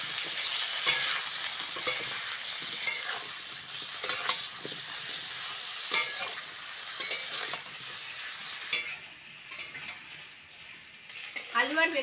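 Cubed potatoes and eggplant fry in hot oil with spices in a pan, a continuous sizzle broken by stirring scrapes and clatters of the utensil.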